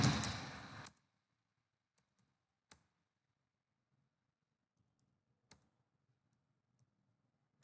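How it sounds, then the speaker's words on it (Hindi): Sparse, crisp clicks of keys on a computer keyboard while entering numbers into a spreadsheet, each press isolated in near silence after a brief burst of noise at the start. "ये हम कीबोर्ड से टाइप करते जा रहे हैं और एंटर प्रेस करते जा रहे हैं।"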